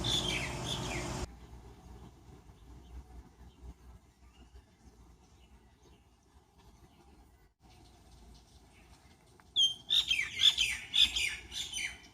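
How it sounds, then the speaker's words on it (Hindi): Birds chirp and squawk in a burst of sharp, overlapping calls in hot summer weather, rising suddenly after a stretch of low outdoor hum and rumble, fairly near and lively. "पानी की तलाश में आप परिंदे भी देख सकते हैं।"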